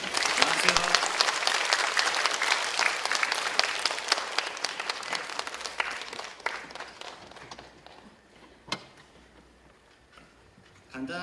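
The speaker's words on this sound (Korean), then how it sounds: "큰 박수로 맞이해 주시기 바랍니다" A concert audience at a children's composition showcase gives dense, full applause for young composers coming on stage, loud and sustained before tapering off, with a brief voice near the end.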